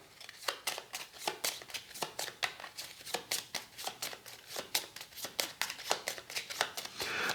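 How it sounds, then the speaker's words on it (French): Cards for the Nemesis board game are drawn and handled in a quick, faint series of crisp flicks and slides on a table, a steady run of soft papery snaps with no talk. "Je vais piocher 4 cartes là."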